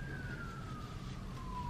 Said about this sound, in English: There's obviously an ambulance or a police car or something going by.